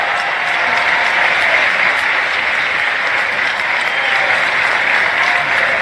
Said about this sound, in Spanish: la invité para darle un aplauso aquí a Belinda